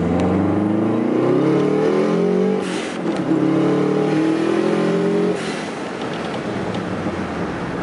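A car with a stage 3 competition clutch pulls hard in second gear, its engine note climbing steadily and loud, briefly dipping as the pull eases, then rising again before settling back.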